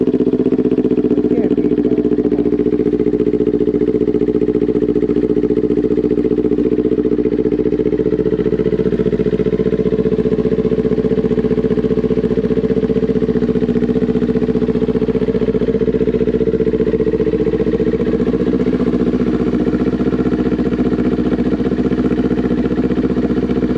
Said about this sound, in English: Here's the cold start with you with this beautiful sounding, I think one of the best sounding exhausts for the Ninja 400.